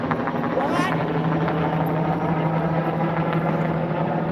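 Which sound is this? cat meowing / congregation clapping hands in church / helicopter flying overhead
helicopter flying overhead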